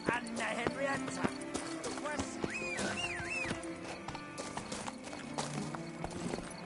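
A horse gallops in The Witcher video game, rapid rhythmic hoofbeats clip-clopping throughout with a whinny in the middle, alongside game voices and music.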